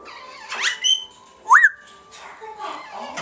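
An African grey parrot lets out a few sharp squawks and whistled calls, close by and loud, with short pauses between them and some faint talk nearby.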